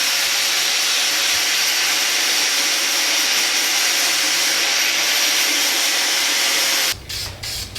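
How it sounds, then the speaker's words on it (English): Self-etch primer sprayed from an aerosol can onto a K20 engine swap part for an EG Civic, a steady close hiss running for about seven seconds before cutting out into a few brief handling noises. "Little self-etch primer never hurt nobody."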